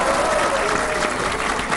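Brief burst of audience applause at a poetry gathering, dense clapping from a packed crowd, loud and even across the whole moment.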